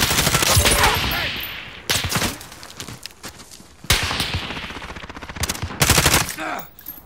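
Rapid gunfire in a multiplayer shooter video game, with dense bursts of automatic fire and sharp single shots broken by short pauses, loud and close throughout.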